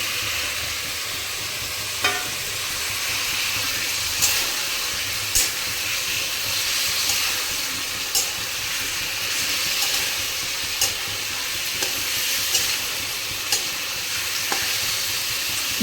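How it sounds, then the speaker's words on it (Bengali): Fried potato and cauliflower pieces are stirred with spices in a hot pan, giving a continuous close sizzle and hiss, with sharp spatula scrapes and knocks every second or so and no voices. "আলু আর ফুলকপিটাকেও ভালো করে কষিয়ে নেব যাতে এগুলোর মধ্যে মশলাটা ভালো করে ঢোকে"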